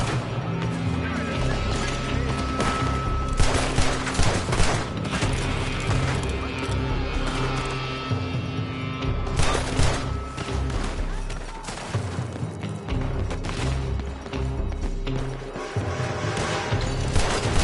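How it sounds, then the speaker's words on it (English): Repeated gunshots ring out in Red Dead Redemption 2 on PS4 Slim, with sharp cracks and crashes scattered throughout a dense, loud shootout under music. "They're shooting from that building."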